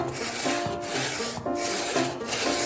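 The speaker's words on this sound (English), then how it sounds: "Sawing stone's one thing" Steady back-and-forth rasping of a hand saw cutting through stone, strokes repeating in a rough rhythm with brief pauses, close and fairly loud.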